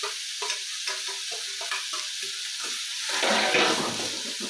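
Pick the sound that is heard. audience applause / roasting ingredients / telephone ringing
roasting ingredients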